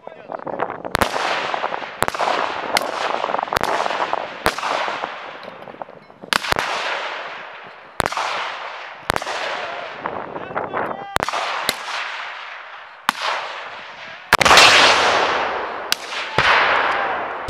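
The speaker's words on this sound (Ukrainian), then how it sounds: "Під час навчань застосовували стрілецьку зброю, гранатомети та ручні гранати" Small arms, grenade launchers and hand grenades go off during territorial defence training: about a dozen sharp, loud reports at irregular intervals, each with a ringing outdoor decay.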